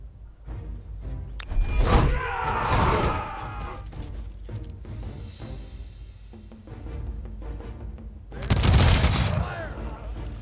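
Gunfire from attacking units in the strategy game Humankind: loud bursts of rapid shots and thumps in two clusters, the second heavier near the end, with quieter battle noise between.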